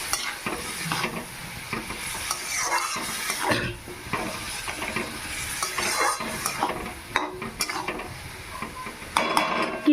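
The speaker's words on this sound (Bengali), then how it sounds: "এবার একটু নেড়ে চেড়ে নিলাম।" Snail curry being stirred in a pan after water goes in, with steady scraping and sloshing strokes over a continuous sizzle, close and fairly loud throughout with no voices.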